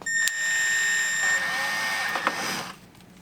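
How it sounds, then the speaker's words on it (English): A 1/4-inch drill bit boring a hole through the rear skirt of a 2003-2008 Toyota Corolla while fitting mud flaps, a steady high-pitched whine with a bright tonal edge running close and continuous before cutting off. "we're going to go ahead and take our 1/4-inch drill bit and drill right through there"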